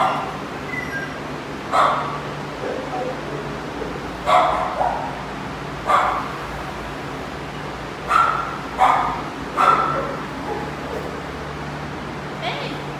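Dogs barking at a pet adoption shelter, sharp single barks popping out every second or two at moderate distance, with people talking quietly between them.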